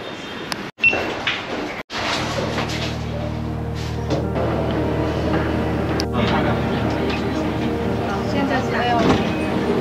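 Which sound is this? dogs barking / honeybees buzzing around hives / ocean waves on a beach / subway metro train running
subway metro train running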